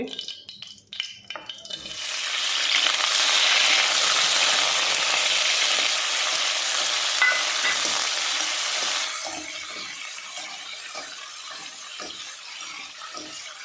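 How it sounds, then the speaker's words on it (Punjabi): Paneer is shallow-fried in a kadai for a shimla mirch paneer dish, producing a loud continuous sizzle that starts suddenly, holds steady, then eases to a softer hiss. "ਬੇਸ਼ੱਕ ਅਸੀਂ ਇਹਨਾਂ ਨੂੰ ਫਰਾਈ ਕਰਦੇ ਹਾਂ ਪਰ ਅਸੀਂ ਸ਼ੈਲੋ ਫਰਾਈ ਕਰਦੇ ਹਾਂ"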